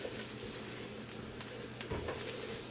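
Garlic sizzles steadily in a hot pan as the base for a chicken, shrimp and sausage jambalaya, a soft continuous frying hiss with a few small crackles and stirring scrapes, faint and alone.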